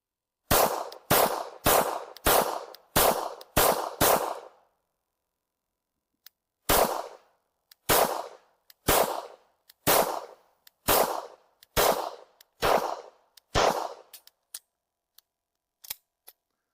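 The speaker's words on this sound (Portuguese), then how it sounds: "recarregar a arma e testar alguns tiros." A series of sharp SIG Sauer P226 pistol shots fired one after another in two bursts, loud and close, with a short pause between groups and a few stray shots at the end.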